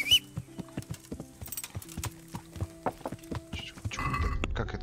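Steady clip-clop of horse hooves in the video game Kingdom Come: Deliverance, a regular walking rhythm of hoofbeats near and moderately quiet, ending in a brief burst of broader noise.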